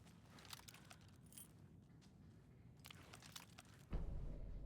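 A bunch of keys jangles softly in short, close metallic bursts that rattle on and off over a quiet room tone in the video game Alan Wake 2.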